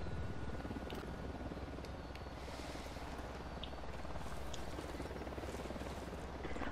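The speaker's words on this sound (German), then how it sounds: "Ich borge mir mal ganz kurz unseren Heli aus." A helicopter in the video game Ghost Recon Wildlands drones steadily throughout, a continuous rotor and engine hum heard at a moderate distance with no talking.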